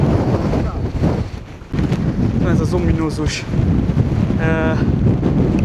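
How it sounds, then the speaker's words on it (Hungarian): Strong sea wind at Norway's westernmost point buffets the microphone with heavy, continuous roaring gusts, loud and close, while someone talks over it. "Szép idő van, a szél rettenetesen erős."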